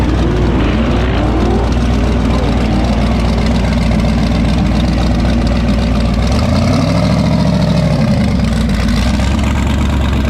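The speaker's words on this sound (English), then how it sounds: "Check out the mountain motor on this Donk. Twin turbos." A twin-turbo mountain-motor engine in a Donk on 30-inch-plus wheels idles loud and close, a steady heavy rumble with a lumpy low throb that swells briefly near the end.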